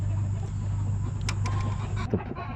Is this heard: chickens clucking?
yes